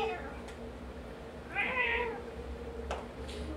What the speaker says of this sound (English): So what does the cat say every time he meows in there?